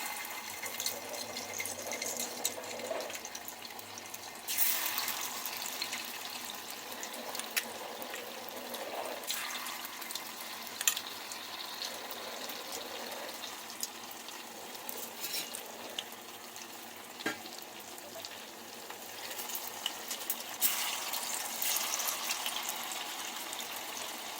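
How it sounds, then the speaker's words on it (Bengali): Marinated baby corn deep frying in hot oil in a pan, a steady close hiss and crackle that swells and eases in waves, with occasional sharper pops and no talking. "গরম হয়ে গেলে তারপরে এগুলোকে আমি ডিপ ফ্রাই করবো"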